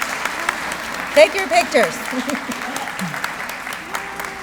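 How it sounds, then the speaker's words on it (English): An audience at a SilverCord ceremony claps in steady applause throughout, while a nearby voice speaks briefly over it. "we would like to give one last round of applause for our SilverCords."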